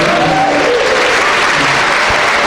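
Audience applause at a two-hour talk-show lecture for former minister Yoo Si-min, a dense, steady wash of many hands clapping throughout, loud and sustained with no break.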